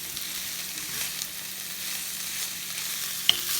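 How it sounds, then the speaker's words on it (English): Peppers and carrots for Sicilian caponata sauté in a pan, giving a steady, moderate sizzle with a few faint stirring clicks and one sharp tap near the end. "just saute those down."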